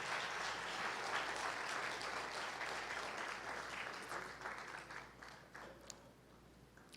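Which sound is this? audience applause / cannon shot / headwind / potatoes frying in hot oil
audience applause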